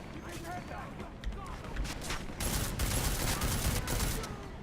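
Gunfire in Deus Ex: Mankind Divided, dense and continuous, growing heavier after the midpoint, with someone talking over it throughout.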